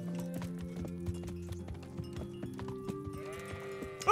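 Sheep bleat in short wavering calls over a steady background hum with faint clip-clop steps, like a game soundtrack, no talking, from the video game Kingdom Come: Deliverance.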